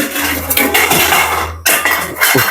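Metal pots and pans knocked by a cat clatter and bang loudly nearby in a jumbled series of crashes, with a brief pause before more rattling knocks.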